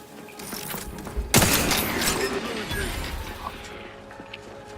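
Gunfire in The Outer Worlds video game: a sudden loud burst of shots with a crashing impact, then a rumbling, echoing tail under game music and effects.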